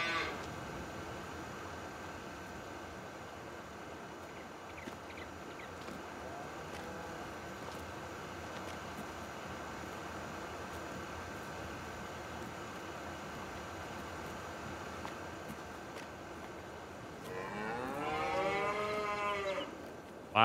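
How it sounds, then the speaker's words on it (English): Cows mooing in the Farming Simulator 22 video game, one loud drawn-out moo near the end over a quiet steady background hum, with a fainter call earlier and no talking. "Loud cows, dang."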